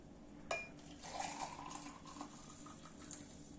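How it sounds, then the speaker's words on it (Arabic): Water at a full boil bubbles hot for a ginger immunity drink, with a sharp clink of glass or utensil at the start followed by a steady, close, churning fizz. "هو راه باقي يبقبق، يعني الماء سخون غليان"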